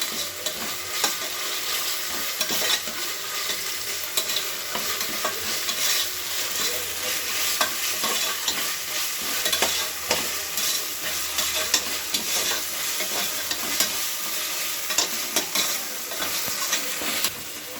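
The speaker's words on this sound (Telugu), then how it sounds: "ఇందులోనే అల్లం వెల్లుల్లి పేస్ట్ వేసుకోవాలి. కొంచెం పచ్చి వాసన వేసేపు ఫ్రై చేసుకోవాలి" Ginger garlic paste sizzles and fries in a pan while a spoon scrapes and stirs it steadily, a continuous close hiss with no voices, while bagara rice is being made.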